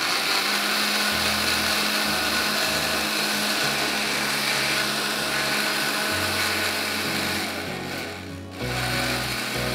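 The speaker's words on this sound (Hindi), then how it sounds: "और इसको हमने पहले ब्लेंड करना है।" A kitchen blender whirs loudly while blending strawberry jelly crystals with hot water, a steady motor drone with shifting low pitch as the contents churn, briefly dipping near the end before resuming.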